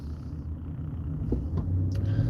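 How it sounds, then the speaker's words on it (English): Low car engine rumble and road hum in traffic, a steady idling drone heard from inside the vehicle, faint and continuous with a couple of small clicks. "Come on, traffic. Let's go."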